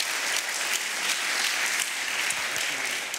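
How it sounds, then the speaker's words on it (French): An audience applauds after an introduction at a talk on business ethics, steady dense clapping that fills the whole stretch at an even level with no voices over it. "je vous propose de l'applaudir"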